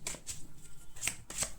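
Tarot cards are shuffled by hand in quick, close, crisp riffling bursts, several rapid flutters in a row with no talking.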